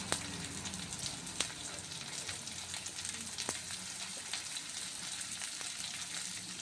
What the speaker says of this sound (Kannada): ಸಣ್ಣದಾಗಿ ಹೆಚ್ಚಿರೋ ಈರುಳ್ಳಿ ಹಾಕ್ತಾಯಿದ್ದೀನಿ.